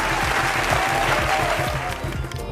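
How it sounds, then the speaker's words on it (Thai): A studio audience on a TV set applauds a live band performance, loud close clapping and crowd noise over a low rhythmic thump in the background. "ขอเสียงปรบมือดังๆ จากทางบ้านหน่อย"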